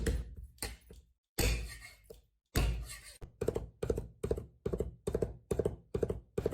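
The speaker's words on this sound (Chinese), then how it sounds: "2、3粒大蒜拍匀剁碎" A knife chops garlic cloves on a cutting board: a few heavy smashing thuds first, then a quick, even series of sharp chopping knocks, close and distinct.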